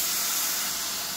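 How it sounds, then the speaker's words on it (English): Steady broadband steam hiss as diced tomatoes go into a hot pan with Southwest spice blend, loud and close, constant for about a second with no talk. "The fragrant steam bath."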